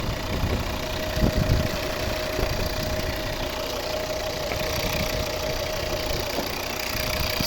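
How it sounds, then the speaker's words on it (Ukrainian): A 2011 Volvo V50 with a 2.0 D3 diesel engine and automatic gearbox idles smoothly and steadily, a close, even mechanical hum with a light knocking texture and no speech. "Ідеально рівно тихо працює двигун."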